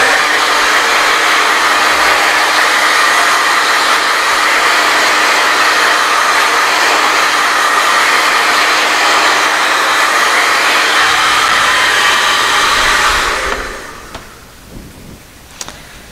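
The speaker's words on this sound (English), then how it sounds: "Put my blow dryer on it to dry it." A hair dryer drying sealer on a clock blows loudly and steadily for about thirteen seconds, then switches off, leaving a few small clicks and handling noises.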